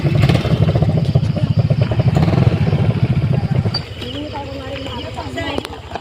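A motorcycle engine rumbles loudly and unevenly as it rides over a rough road in Norzagaray, Bulacan, then drops away, leaving quieter background noise.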